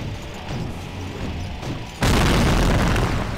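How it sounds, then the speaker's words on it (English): A massive explosion erupts in the video game Psychonauts during a boss fight, a sudden booming burst that cuts in halfway and stays loud and roaring to the end, following a low rumbling lead-in. "that was a big old explosion"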